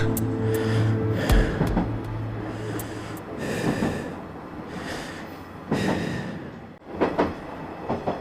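A train rumbles steadily on its rails, with low droning and occasional sharper clanks and squeals rising over the continuous rolling noise.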